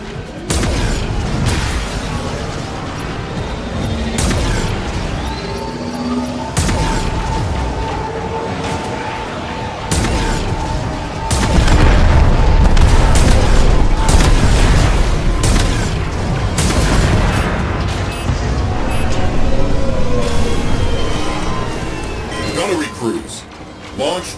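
Ramslets launching and torpedoes exploding in Warframe's space combat, a dense continuous barrage of booms and heavy blasts that swells louder midway, with game voices talking over the fire.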